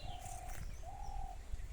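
Birds call around a farmhouse in Jangipara, Hooghly, in the afternoon: two soft, drawn-out dove-like coos against a faint rural background hum.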